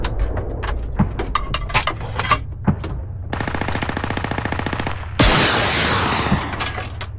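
A BMP-1 fires on an M1A1 Abrams tank in the video game Squad: scattered single shots, then a sustained rapid burst of autocannon fire, ending in one loud, heavy boom that rings out and slowly fades.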